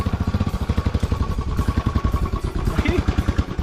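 A motorcycle goes off-road on a rough dirt track to Rangna Fort. Its engine thumps in rapid regular pulses, loud and close, with clattering over the bumps.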